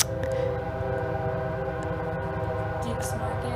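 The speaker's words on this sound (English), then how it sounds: "See here comes a train." A train passes through Ashland, a steady loud rumble of rolling cars with a sustained horn blast carrying over it, close by and continuous throughout.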